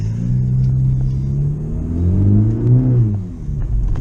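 A car with a very loud exhaust rumbles deeply at close range, the engine swelling through a rev before settling back to a heavy idle, no voices.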